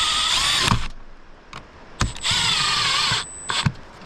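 A power drill drives screws into a mini-split line set cover during a Samsung 24k BTU single-zone heat pump installation, with several loud whirring bursts of varied length separated by short pauses and clicks, close to the listener.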